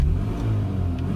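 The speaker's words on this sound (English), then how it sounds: "But watch when I rev the car." An 1980s Austin Maestro car's engine is revved briefly, a close, loud low-pitched rumble that rises slightly over about a second, with no voices.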